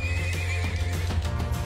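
A horse neighs close by in a drawn-out whinny over a steady rhythm of galloping hooves and clip-clop, all loud and busy.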